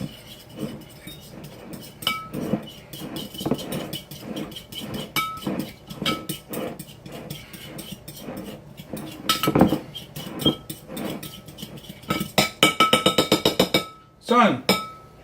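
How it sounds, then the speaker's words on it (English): Whisking a pizza-sandwich mixture in a bowl: repeated clinks and scrapes of a whisk against the bowl in an uneven rhythm, close and moderately loud, with a quick burst of faster strokes near the end and some talk in the background. "Whisk all of this together."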